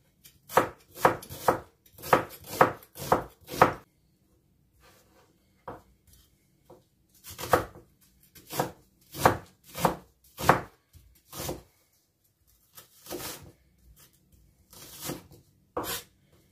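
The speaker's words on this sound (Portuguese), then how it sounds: "vou cortar as cebolas" A knife chops onions on a board in quick bursts of sharp knocks, with pauses between runs, close and clear and with no talk.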